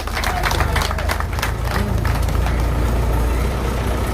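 A crowd at a village meeting in Chennaram claps loudly in support of putting up an Ambedkar statue. The applause is dense and rapid, strongest in the first couple of seconds, over a steady low rumble.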